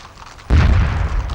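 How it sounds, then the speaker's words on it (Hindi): A single heavy cannon boom from the 21-gun salute at India's Republic Day parade in 1993, arriving abruptly after a quiet moment and leaving a loud, rumbling low-end roar that lingers. "राष्ट्रीय ध्वज शान से फहरा रहा है और 21 तोपें गरज गरज कर भारतीय गणतंत्र का अभिनंदन कर रही हैं"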